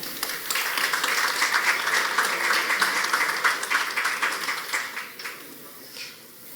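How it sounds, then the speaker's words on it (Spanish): A forum audience greets a speaker with applause, dense clapping that holds for about five seconds before thinning into a few scattered claps and fading out. "Recibo con el aplauso de ustedes a Francisco Alberto Salvador Salazar."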